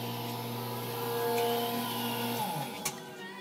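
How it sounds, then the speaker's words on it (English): A Microglide microdermabrasion machine that runs on baking soda crystals hums steadily up close. Its motor tone shifts pitch midway, and a sharp click sounds near the end. "So this is my version of microdermabrasion machine. It's called the Microglide."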